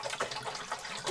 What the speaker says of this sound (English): We are filling up the tank